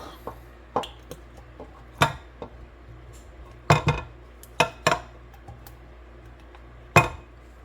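A utensil clinks against a bowl while pound cake batter of flour and milk is mixed, heard as scattered sharp metallic taps and scrapes at an irregular pace, close and fairly quiet with no talking.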